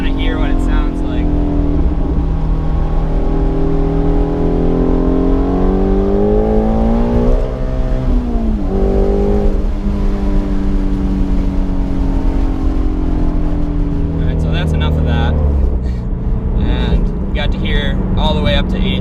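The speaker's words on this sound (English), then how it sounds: "just give you that exhaust noise" A Ford Shelby GT350 Mustang's engine revs hard and close, its exhaust roaring as rising and falling tones climb through the range, with a brief lull midway and another rev near the end.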